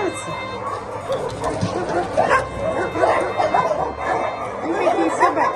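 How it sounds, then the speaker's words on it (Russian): Restless dogs bark and yip in short bursts throughout, mixed with whimpers and under a person's steady talking. "Ну, такие собаки неспокойные, да?"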